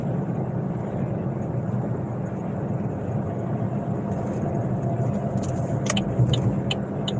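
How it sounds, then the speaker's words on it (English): A car drives along a road with steady, loud engine and tyre rumble throughout, a few brief higher clicks and squeaks toward the end. "I'm driving like Mr. Magoo right now."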